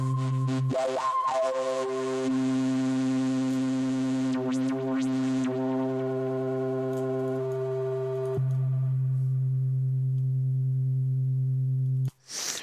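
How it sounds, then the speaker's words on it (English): A steady synthesized sine tone from an oscillator in Bitwig's The Grid drones with stacked harmonics, shifting pitch partway through, then cuts off abruptly near the end. "Let's go ahead and use a sine wave here."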